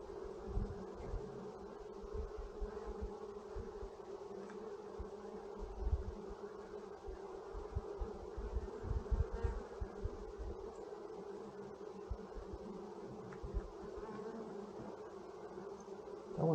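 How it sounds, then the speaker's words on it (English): A steady, dense hum of many bees buzzing nearby, continuous and fairly quiet, with no voices. "Some serious bees."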